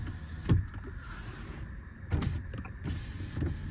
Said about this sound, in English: We have got front and rear electric windows. Do they all work?